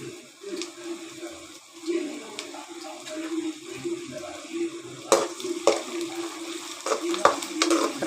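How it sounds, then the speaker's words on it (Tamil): Okra and tomato sautéing in a pan, soft sizzling and wet stirring scrapes that repeat irregularly, close and moderately loud, with no talking. "ரெண்டும் சேர்ந்து நல்லா வதங்கி வரட்டும்."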